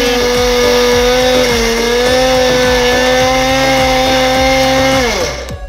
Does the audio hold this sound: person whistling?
no